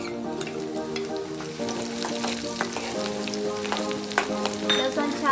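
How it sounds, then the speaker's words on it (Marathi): Garlic dropped into hot oil in a kadhai on a gas stove, with cumin seeds already crackling, gives a loud, close, continuous sizzle full of sharp pops and spatters. "जिरे छान तडतडलेले आहेत लसण टाकायचं"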